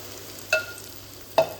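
Water tipped from a blender into a pan of frying blended spice paste for pork rica, making two short sharp sizzling splashes close up with a faint hiss between them.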